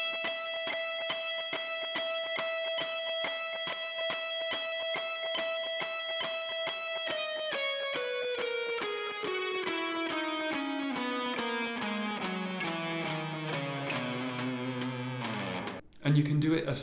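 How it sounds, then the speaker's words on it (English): Guitar plays a fast descending E Lydian scale run, picked two notes per click in steady even rhythm, starting on a long high repeated figure before stepping down the scale, close and clear with the click audible. "play it 2 notes per click and then follow it with your descending run"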